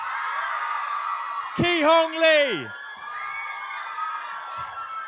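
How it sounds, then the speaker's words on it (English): A crowd cheering and whooping for the Maze Runner: The Scorch Trials cast in a steady roar, with an announcer's amplified voice calling a name over it partway through. "Keep the applause going."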